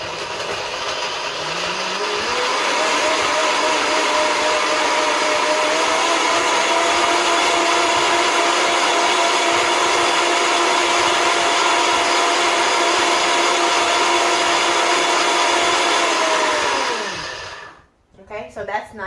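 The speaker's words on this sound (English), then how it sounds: "so I'm going to blend this now." A kitchen blender whirs a smoothie for about fifteen seconds. The motor spins up quickly and holds a loud, steady high-pitched whine before winding down and stopping, with a faint voice near the end.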